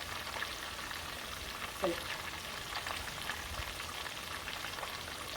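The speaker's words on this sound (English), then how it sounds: "I don't like the way it's frying" Louisiana Cajun crispy fish frying in hot oil, giving a steady, dense sizzle and crackle close by, with one brief spoken word.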